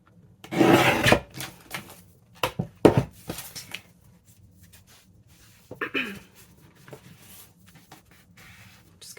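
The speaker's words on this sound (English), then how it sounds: "Just going to give those a burnish." Scraping rubs burnish paper-bag junk journal ephemera, a loud rasping scrub at first, then several shorter strokes and a softer pass later, with quiet gaps between them and no talking.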